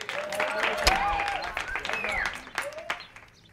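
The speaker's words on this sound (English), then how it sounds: "Give Haniyfa a round of applause" An outdoor crowd at a Pride Day flag raising in Carteret, New Jersey applauds a speaker, with scattered claps and cheers mixed with talking voices, tapering off toward the end.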